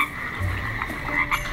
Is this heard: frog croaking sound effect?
yes